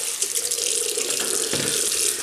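Tap water runs steadily into a bathroom sink for rinsing after a shave with menthol shaving cream, a continuous close splashing flow with no talk.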